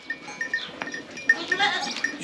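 Goats bleating on a village farm, a small young kid among them, short high calls repeating at intervals with scattered farmyard noise and faint voices underneath.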